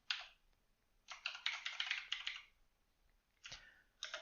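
Keys clatter on a computer keyboard as code is typed, in two quick bursts of rapid clicks separated by pauses, then a few isolated keystrokes, close and fairly quiet, with no talk.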